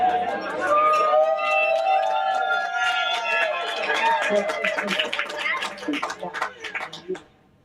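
Audience clapping builds behind cheering voices at a stress talk, then thins into scattered claps that trail off into a few last isolated ones.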